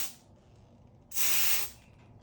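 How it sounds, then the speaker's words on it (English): A short burst of black primer from an aerosol spray can hisses for about half a second, close and fairly loud, after a faint earlier hiss. "So just a test spray."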